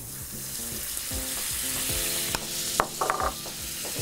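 Butter sizzles in a preheated tarte tatin dish, a bright, continuous crackling hiss with a few sharper pops and scraping stirs near the end, close and fairly loud.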